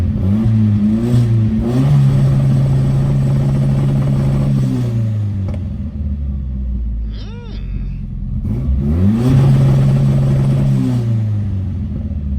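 A 1988 Starion engine held at high revs on a newly installed two-step launch limiter, loud and close, crackling and popping, dropping briefly before revving up again.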